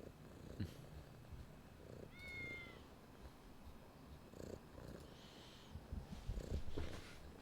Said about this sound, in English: Look and listen to the kitties that Reaver would hate, Navajo.